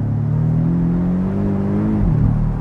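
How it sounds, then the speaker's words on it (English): Porsche 718 Boxster GTS flat-four with a Milltek exhaust giving a steady, close low burbling rumble that dips briefly in pitch near the end, with no talking over it. "a spirited driving video with the Milltek exhaust in it, and it's just got this rumbly burble to it"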